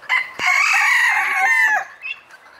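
A black or blue mottled breeding-flock rooster crows once, loud and close, one long harmonic call with a brief cluck-like note at the end and no talking.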